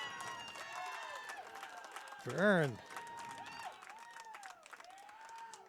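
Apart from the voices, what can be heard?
Lake Stevens baseball fans applauding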